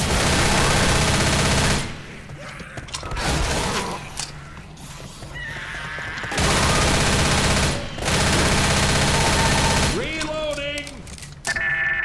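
Gunfire from the video game Left 4 Dead comes in loud, dense bursts of rapid shots that stop briefly and then resume, with mechanical clicks and a rising whine in the gaps and a voice speaking partly over it.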